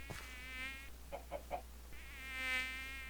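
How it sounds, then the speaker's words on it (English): A mosquito swarm in Minecraft's Twilight Forest mod gives off a thin, whining buzz that swells and fades in two long waves, with a few soft clicks in between. "Next is a mosquito swarm. These are probably the most annoying things ever. Listen to the sound they make."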